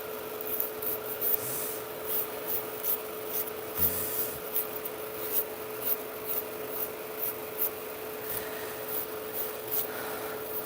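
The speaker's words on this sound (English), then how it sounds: "when you are filing the acrylic itself, you could be a little rougher" A nail file rasps back and forth over acrylic nails in quick, regular rubbing strokes, close and fairly soft, repeating steadily throughout over a faint background hum.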